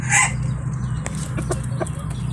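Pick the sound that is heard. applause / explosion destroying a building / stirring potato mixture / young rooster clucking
young rooster clucking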